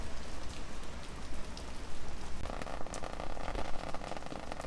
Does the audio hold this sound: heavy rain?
yes